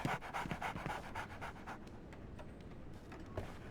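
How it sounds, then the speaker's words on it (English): A dog pants rapidly in quick rhythmic breaths inside the Sherlock Holmes The Awakened video game, close and fairly quiet, with the panting easing off toward the end; no talking. "So, Barnes has a dog now."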